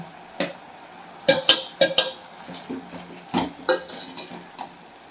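Ground masala goes into a cooking pot of oil for a postpartum medicinal kuzhambu and is stirred, giving a run of scraping clanks and metallic knocks against the pot over a faint sizzle, close and irregular.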